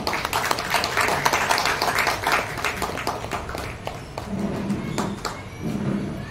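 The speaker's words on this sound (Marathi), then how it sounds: "सगळ्यांनी या टाळ्या ताईंसाठी" A seated audience claps in welcome for a guest at a Shivrajyabhishek ceremony gathering, a dense patter that thins toward the end while a voice briefly sounds near the close.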